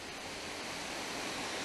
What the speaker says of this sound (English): what you can hear is, of course, rushing water